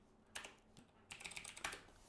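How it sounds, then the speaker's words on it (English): Fingers type on a computer keyboard during a Grade 10 IT practical exam, quiet close-up keystrokes arriving in two short bursts of rapid clicking separated by a brief pause. "So I'm typing in Trevally."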